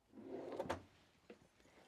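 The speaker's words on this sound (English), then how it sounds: "we've got a little pull-out drawer." A small pull-out drawer in a Pilote G740 FC Evidence A-class motorhome kitchen slides open with a soft, brief rumble and a light knock, then a faint tap, close and quiet.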